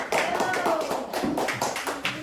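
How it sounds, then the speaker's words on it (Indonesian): Participants in a teacher-training group session clap in a short, brisk round of uneven claps, close and fairly loud, with voices mingling in. "beri tepuk tangannya"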